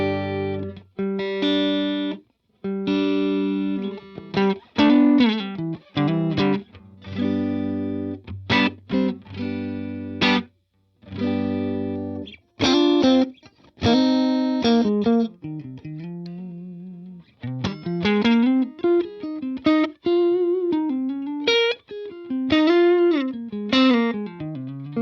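Electric Strat-style guitar played through modelled Matchless DC30 and Fender Deluxe Reverb amps with no reverb, panned hard left and right: clean-to-crunchy chords and single-note runs, strummed in bursts with short gaps, loud and close.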